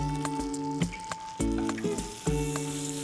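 Whole spices, cinnamon, peppercorns and a bay leaf sizzling in melted fat in a pot for tomato soup, with an even crackle broken by repeated scraping stirs, close and without speech.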